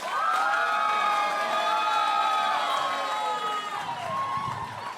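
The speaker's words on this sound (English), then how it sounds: "Let's start the round of applause at this side of the room and get it moving all the way across." Audience at a new-comedian stand-up night cheering, whooping and applauding to welcome comedian Lorna Welsh onto the stage; a loud, sustained crowd roar with high shouts runs the full length.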